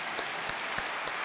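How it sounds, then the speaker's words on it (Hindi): Loud applause from a television game show studio audience, a dense continuous roar of clapping throughout the short stretch with no talk. "मैं चाहता हूं कि जोरदार तालियों के साथ इन सबका अभिनंदन किया जाए"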